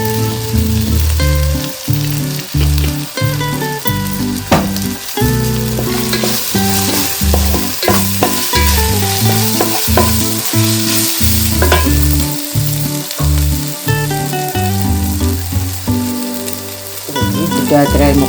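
Crab pieces fry loudly in hot oil, a dense close crackling sizzle broken by repeated stirring scrapes and clanks of a spoon against the pan, continuous throughout with no speech.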